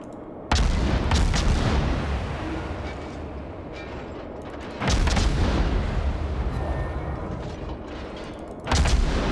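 Naval guns firing in World of Warships, three heavy booming salvos spaced a few seconds apart, each followed by a long rumbling decay, loud and close with no talk over them.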